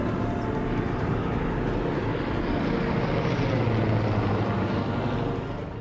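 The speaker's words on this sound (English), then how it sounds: "You're looking at this plane, and you can clearly see it." Search plane flying overhead above the Grand Canyon in winter, a steady broadband engine drone that holds at a constant level throughout and then fades slightly at the end.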